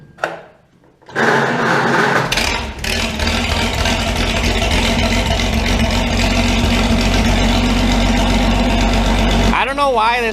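Engine of a 1977 vehicle running on choke, a harsh, loud, continuous rough roar that starts abruptly after a brief quiet moment and holds steady, with a voice briefly audible near the end.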